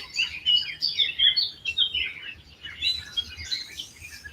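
Small birds chirping and twittering continuously outdoors, with quick overlapping tweets and short calls at moderate distance, fairly soft, no speech.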